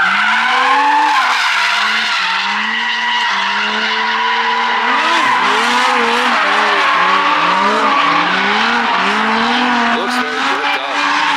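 A BMW E36 clutch-kicked into a drift at the Ebisu circuit in Japan, its engine wailing loudly and steadily with continuous tire squeal, the revs rising and dipping throughout.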